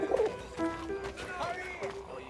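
Soft pigeon coos in a video game, a few warbling calls near the start over layered music tones, with voices talking across the scene.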